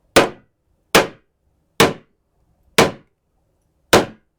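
Five hard smacks on the middle of a protective hardware case, evenly spaced at just under a second apart, each a loud sharp crack that decays quickly into silence, with no talking.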